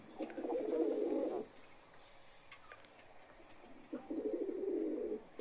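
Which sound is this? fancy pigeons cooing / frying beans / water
fancy pigeons cooing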